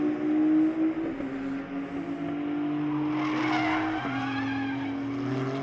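A GT race car at Watkins Glen in a Blancpain GT World Challenge America race brakes late and spins, with a loud sustained engine drone and tire squeal skidding across the clip, close and without talk.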